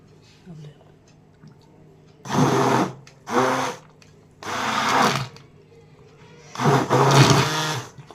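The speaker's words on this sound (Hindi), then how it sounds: "तो इसे हम हैंड ब्लेंडर से करेंगे मिक्स।" Hand blender whirring in bursts while mixing Mana village salty tea in a small pot, four loud runs of a few seconds each separated by pauses, close by.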